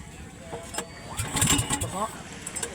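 A stalled boat engine is cranked to restart, a rough, sputtering mechanical turnover rising briefly in the middle, close by, with people talking over it.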